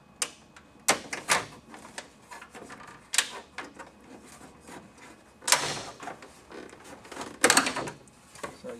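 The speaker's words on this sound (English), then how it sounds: "And once you get those screws out, you pry this off." Plastic trim clips on a Chevrolet Monte Carlo instrument cluster panel give sharp snaps and clicks as the panel is pried off. Several loud pops come at irregular intervals, with quieter scraping and rattling between them, close up in a quiet room.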